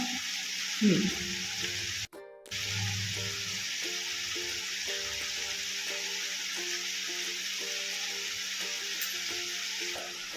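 Vegetables tossed with salt in a hot pan for veg pulao give a continuous bright sizzle, with a brief stir-scrape early and a short dropout. A faint tonal hum runs underneath throughout.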